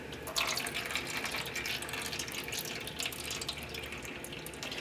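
Water being dipped out and poured out of a small container at a craft table, close splashing and trickling with intermittent drips, no voice over it.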